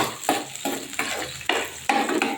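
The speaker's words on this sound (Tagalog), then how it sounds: "Alam niyo naman kung paano mag magisa ng sibuyas at bawang dito" Onion and garlic sautéed in a pan: rhythmic scraping stirs of a utensil, about five strokes at a steady pace, over a continuous close sizzle, with no talking.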